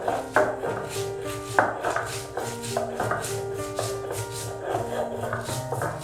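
Dried chili peppers with a little salt are ground by hand on a traditional stone grinding slab, giving repeated rough scraping and rubbing strokes at a steady rhythm, close and fairly quiet.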